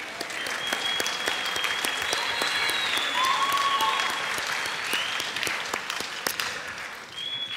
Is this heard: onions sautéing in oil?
no